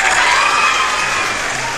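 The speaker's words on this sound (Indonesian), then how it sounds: "Tepuk tangan dulu buat teman-teman yang hebat nih." Audience applause and cheering from a crowd at an indoor learning session, a dense, steady wash of clapping and voices that stays loud throughout and eases off slightly toward the end.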